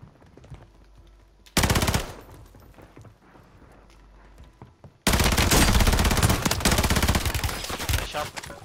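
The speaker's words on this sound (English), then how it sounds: "Nice shot." Gunfire in the video game Call of Duty Warzone: a brief loud automatic burst, a quieter stretch, then a long sustained roar of heavy automatic fire to the end.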